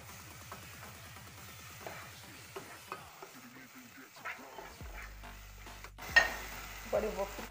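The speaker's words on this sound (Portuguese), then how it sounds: "Aqui eu vou fritar o alho. Estou usando 2 dentes de alho." Two cloves of garlic fry and sizzle in a pan with a bit of onion, a steady soft crackle under stirring and scraping, while a dog barks briefly and faintly in the background.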